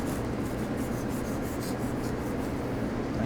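A knife saws through a sandwich to cut it in half, a continuous close rasping scrape with soft repeated strokes.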